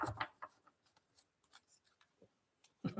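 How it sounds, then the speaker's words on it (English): Tarot cards are shuffled in quiet, quick bursts of light riffling and sliding, with short papery rubs and taps separated by silence. "Let me give these a shuffle."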